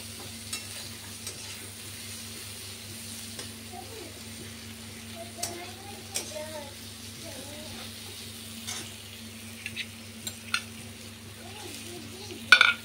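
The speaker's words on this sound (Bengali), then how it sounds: "কাঁচা লঙ্কাটা দিয়ে দিলাম, পেঁয়াজটা ভালো মতন ভাজা হোক," Onions and green chili fry in a pan, giving a faint, steady sizzle with occasional stirring scrapes and light clinks of a utensil against the pan.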